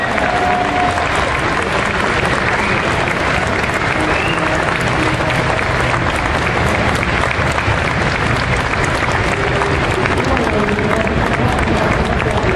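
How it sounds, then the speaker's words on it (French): A large convention crowd at Japan Expo 2010 bursts into loud, sustained applause for the producer of Final Fantasy XIV. Dense clapping stays steady and close throughout, with crowd murmur blended in. "demande de vous lever et un tonnerre d'applaudissements, Monsieur Tanaka, qui est là, le producteur"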